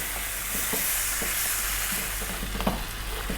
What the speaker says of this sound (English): Now we're going to go for another 4 minutes, giving it a stir every now and then.